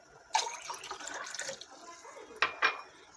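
A cup of water is poured while making rasgulla with vinegar in a home kitchen: a steady close splashing stream runs for about a second, then quieter liquid sounds and two sharp clinks follow.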